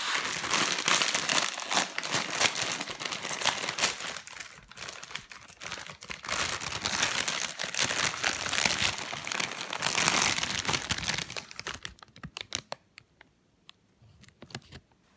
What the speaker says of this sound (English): Clive, open up the crisps